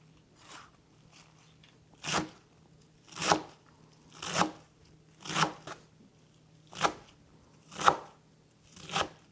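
A knife chops herbs on a board for Persian yogurt soup, ash-e-doogh, in a home kitchen: about eight crisp, evenly spaced chops close by, each roughly a second apart, with quiet gaps between.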